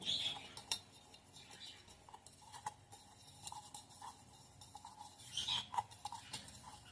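Spoon clinks and scrapes against a tiffin bowl as ingredients are mixed into white oil for egg chilli, with faint, scattered taps at close range and little else.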